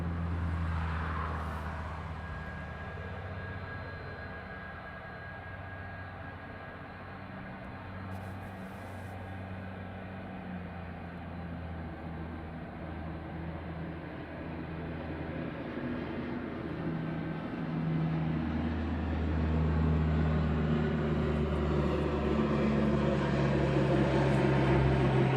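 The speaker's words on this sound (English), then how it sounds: "you're going to hear an ATR going over the second" An ATR turboprop aircraft passing over at night near East Midlands Airport, a steady droning engine hum with tonal propeller whine that slowly swells louder over the passage, heard from a distance with no talking.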